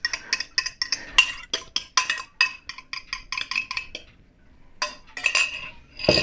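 A metal utensil clinking and scraping against a bowl while folding an egg into cake batter, a quick series of close, bright taps and stirs with a short pause.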